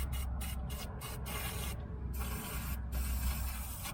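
A can sprays penetrating lubricant onto a seized bolt on a Ram 2500/3500 truck hub during a wheel bearing job, a series of short close hissing bursts, several quick ones and then a longer spray, over quiet shop background.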